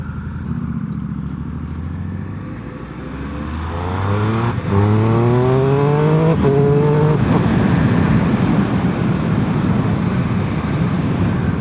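A Triumph Speed Triple 1200 RS motorcycle accelerates hard, its engine note climbing through several quick short-shifted gears before settling into a loud sustained roar with rushing wind, heard close up.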